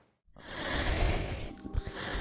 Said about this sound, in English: I hear somebody breathing behind me